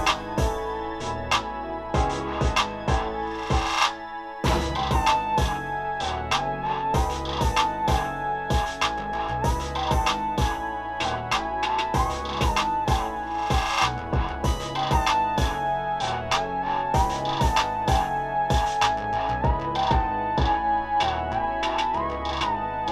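A hip-hop beat plays in full with drums and every layered part together, punchy kicks and snares knocking under a looping melodic line, loud and continuous with no talking.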